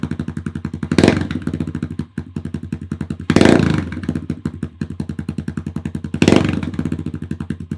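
A motorcycle engine runs close by with its slip-on exhaust not yet fastened, a rapid, throbbing idle loudly blipped three times at steady intervals.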